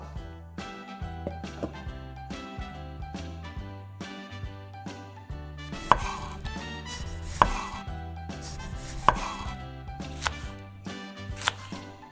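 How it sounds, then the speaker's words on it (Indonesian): A knife chops vegetables on a board in a kitchen where a seafood dish with Thai-style sauce is being made, giving steady rhythmic taps with a few louder knocks over a quiet background for about twelve seconds, with no talk. "Sekarang potong sayurannya."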